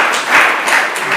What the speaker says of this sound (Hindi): जोरदार तालियां फिर से इनके लिए